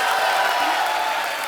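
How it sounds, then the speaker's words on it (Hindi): Studio audience on The Kapil Sharma Show applauding and cheering to welcome guest Daniel Weber, a dense, steady wash of clapping and crowd noise filling the room at an even, loud level. "आपकी जोरदार तालियों के बीच"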